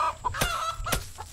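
Chickens in the Garden Paws video game cluck in short close bursts, with two sharper squawks standing out over a quiet farmyard background.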